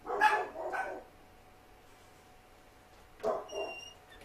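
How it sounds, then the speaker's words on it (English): A dog barks twice close by, then pauses and gives one more bark or yip, with no talking over it. "Can you hear my dog?"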